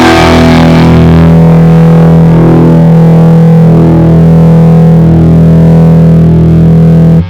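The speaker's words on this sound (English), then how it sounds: "you definitely like distortion and noise, but not really this kind of extreme noise" Extreme, constant distortion noise saturates the signal at full loudness, a harsh buzzing drone with a strong low hum that holds steady for several seconds before cutting off, with no voices.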